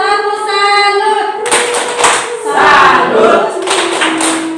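A classroom of students performs a 'tepuk salut' clapping routine, a burst of many hands clapping together in a quick rhythmic pattern, loud and close, with a few voices calling out over the claps.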